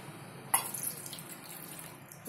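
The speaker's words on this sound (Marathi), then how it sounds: "या गर मध्ये आता पाणी घालत आहे" Water poured into extracted mango pulp for raw mango panna, a soft steady trickling stream that begins with a brief splash and continues quietly.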